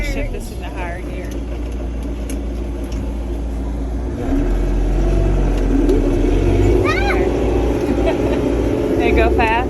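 A vehicle driving fast across a snowy Texas ranch during a winter storm, its engine a steady loud drone that grows louder after a gear shift, with people talking over it throughout.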